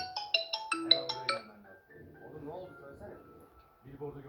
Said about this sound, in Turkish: Telefonumuz çalıyor.